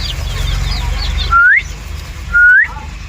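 Two rising whistles from a person ring out clearly near young chicks on a country chicken farm, each a short steady tone sweeping upward at the end, with faint chirping and low background noise between them.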